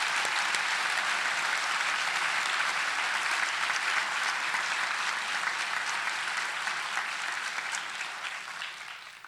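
Sustained applause from an audience at a professor's inaugural address, dense and loud clapping throughout, tapering slightly at the end.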